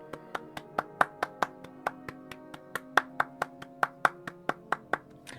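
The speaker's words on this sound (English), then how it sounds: "Some claps for these people, some claps." About twenty-five sharp claps ring out at a steady, brisk pace, with a faint sustained musical tone beneath them.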